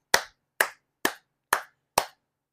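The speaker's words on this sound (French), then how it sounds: "vraiment, je les applaudis" Five sharp, close hand claps from a single person, evenly spaced about half a second apart, each crisp and isolated with silence between them.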